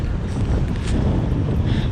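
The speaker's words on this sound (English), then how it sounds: "I don't know if you guys can hear me because it's super windy" Strong wind buffets the microphone at a beach during a crabbing and fishing outing, a loud steady roar that persists throughout with no talk over it.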